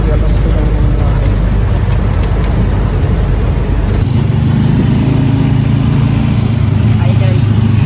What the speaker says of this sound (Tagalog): Nakasakay na pala ako dito ng jeep guys.